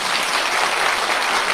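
Audience in a lecture hall applauding a president, a dense, even burst of clapping from many hands, loud and sustained throughout.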